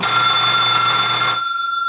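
An old-school Buzz-A-Bell doorbell gong, driven at about 12 volts, rings with a loud, steady metallic tone that holds for over a second. It then cuts off, leaving a faint high ringing tail.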